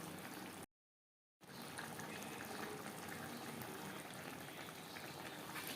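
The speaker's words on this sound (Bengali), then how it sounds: "গ্রেভির সাথে মাছ 2-3 মিনিট রান্না করে নেব।" Bhola fish simmering in curry gravy in a pan gives a steady low bubbling hiss, broken by a short moment of silence before the bubbling carries on evenly.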